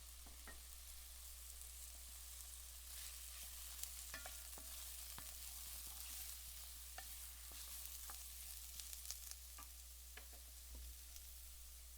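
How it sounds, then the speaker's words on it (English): Mushrooms sauté in batches in olive oil in a pan on a stovetop, giving a soft continuous sizzle broken by scattered clicks and light stirring scrapes, fairly quiet and with no talking. "I start by sauteing mushrooms in batches with olive oil on the stove"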